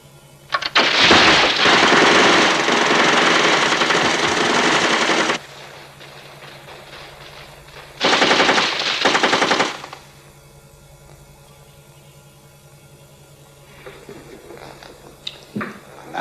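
Bursts of machine gun fire in a 1987 TV drama: a long sustained volley, then a second shorter burst after a pause, loud and close, with quieter scattered sounds near the end.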